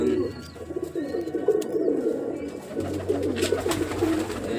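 Several pigeons coo in steady overlapping murmurs, close and fairly loud, with a few faint higher chirps above them and no talking.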